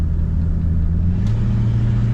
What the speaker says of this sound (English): We're going to take it for a drive for you.